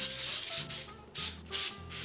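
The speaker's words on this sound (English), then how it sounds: "we take our bundt pan, or I guess whatever pan you want, but I would say bundt. And we are going to spray this, obviously." Pam cooking spray hisses into a bundt pan in three or four short, close aerosol bursts, each a sharp airy spray with brief gaps between.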